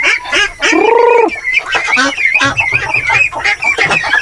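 Several native chickens cluck and squawk close by on a farm in a busy, overlapping chorus, with one drawn-out call rising above the rest.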